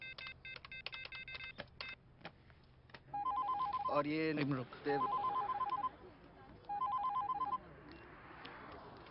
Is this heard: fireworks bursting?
no